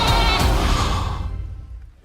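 A goat from a French comedy film gives a single loud, drawn-out bleat up close. It quavers for about a second and then fades away.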